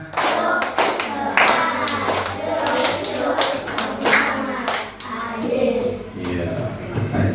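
A group of Indonesian schoolchildren claps in quick rhythmic clapping chants, with voices chanting and talking along throughout.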